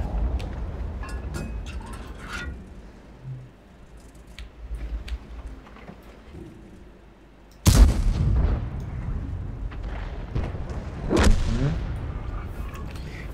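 Grille self-propelled artillery firing in World of Tanks, heard as a sharp, loud blast at about eight seconds followed by rumbling decay and a second heavy boom near eleven seconds, over a low battle ambience.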